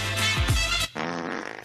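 A single fart sounds during a radio show, a long, buzzing, wavering blast that ends in a short sputtering tail, heard on its own with no talk.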